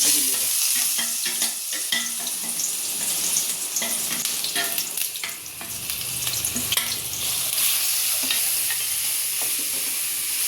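Onion, ginger, garlic and green chilli frying in a pan for a sardine curry, a loud continuous sizzle with stirring scrapes and crackles throughout, close and without talk.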